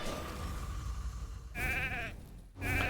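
A sheep bleats in the Raid Shadow Legends video game, two short wavering cries over a low game background hum.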